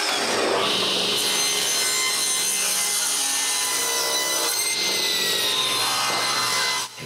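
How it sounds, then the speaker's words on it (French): Recycled wood from an old drawer being cut with a hand saw, a loud, steady rasping of repeated strokes running almost continuously with no voices. "mais comme c'est du bois recyclé, j'ai un peu de bout à couper ici et là"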